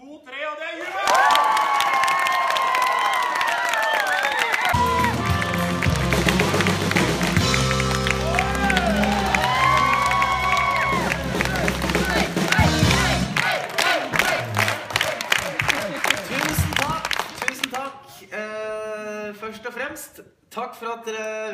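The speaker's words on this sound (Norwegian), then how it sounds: "Vi trenger masse jubel og plystring." A studio audience at a Norwegian music game show erupts in loud, sustained cheering, clapping and whistling, with a host's voice shouting over it before the noise tails off.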